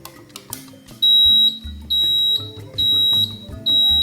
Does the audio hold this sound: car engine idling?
no